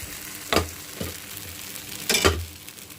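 Pesarattu dosa batter frying on a hot pan, with a few brief bursts of sizzle as batter hits the surface and is spread, over a low steady background hiss.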